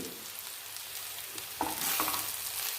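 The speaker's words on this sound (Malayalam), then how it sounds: "ഇതിന് നന്നായിട്ട് പൊടികളുടെ പച്ചമണം മാറുന്നത് വരെ നന്നായിട്ട് മൂപ്പിച്ചെടുക്കുക" Turmeric and chili powder frying with softened onion and tomato for a Kerala-style sardine chili curry, a steady close sizzle with a few louder scraping stirs partway through, no voices.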